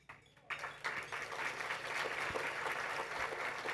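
An awards ceremony audience, the Poinsettia Awards, breaks into applause for the sponsors, quickly swelling into sustained, even crowd clapping heard from a distance in a large room.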